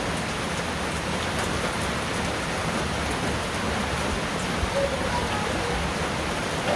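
Steady rain falls throughout, a dense, even hiss of drops on surfaces, close by and fairly loud.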